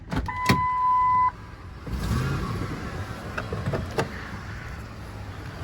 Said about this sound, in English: this is the power window control